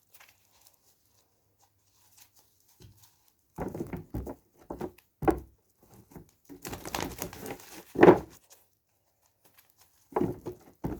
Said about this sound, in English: Just going to give these a quick shuffle.